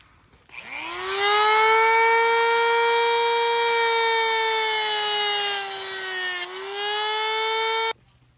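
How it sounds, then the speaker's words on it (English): A Dremel with a small cutting wheel spins up to a high, steady whine while cutting a bumper mount on a Ski-Doo snowmobile, dipping briefly in pitch under load near the end before stopping abruptly. "he's using a little cutting wheel on a Dremel to finish it off"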